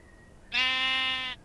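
A goat in the Minecraft video game gives a single sustained bleat lasting nearly a second, clear and fairly loud against a quiet background.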